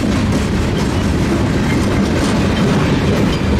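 A freight train of big hopper cars loaded with aluminum scrap rolls past close by, giving a loud, steady rumble and rattle with a faint clatter of wheels throughout.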